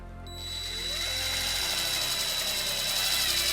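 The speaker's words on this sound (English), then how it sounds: "we're going to use the provided self-tapping screw and a 1/4-inch socket" A self-tapping screw is driven with a 1/4-inch socket into the body of a 2015 Toyota RAV4 to ground trailer wiring. A power driver gives a steady, close whirring hum for about three seconds, with no talking.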